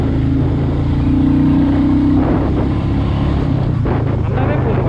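A Royal Enfield Meteor 350 motorcycle accelerating in third gear: a loud, steady engine drone with a rising tone, mixed with heavy wind rush against the microphone.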